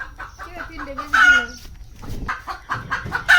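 A farm chicken clucks in quick, close bursts of short squawky calls, loud and repeated throughout, with no clear talk over it.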